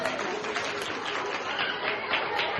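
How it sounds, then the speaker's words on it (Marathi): Applause breaks out at a women's home game show, a dense steady patter of many hands clapping together for a few seconds, fairly close. "जोरदार टाळ्या झाल्या पाहिजे, जोरदार"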